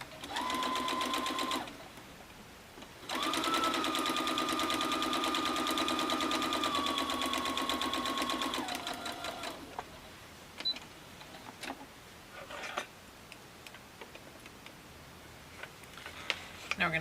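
A sewing machine stitches a single seam joining quilt pieces, running steadily in two sustained bursts with a brief pause between, followed by quieter handling clicks and rustles.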